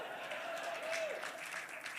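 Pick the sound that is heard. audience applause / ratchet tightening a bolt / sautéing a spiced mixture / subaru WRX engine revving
audience applause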